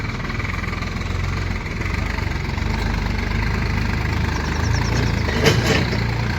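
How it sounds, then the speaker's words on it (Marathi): A tractor hauling a load of sugarcane runs with a steady, loud diesel engine rumble, close and continuous, with a faint brief clatter near the end and no talk. "बघा बघा ऊसाच्या ट्रॅक्टर. आत्ता तरी 2 ट्रॅक्टर एकमेकाला ओव्हरटेक केल्या."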